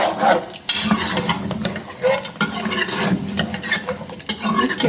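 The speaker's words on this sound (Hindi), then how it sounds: "अब हमें मुसलसल इसमें चमचा चलाते रहना क्योंकि ये दही फट हो जाए।" A spoon scrapes and stirs continuously through yogurt in a pot of chicken qorma, close and steady, with a light sizzle from the pot underneath.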